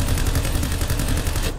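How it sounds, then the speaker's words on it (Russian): Machine gun fire in the War Thunder tank biathlon mode rattles in rapid, evenly spaced bursts, loud and continuous throughout, with no speech over it. "Это пулемет!"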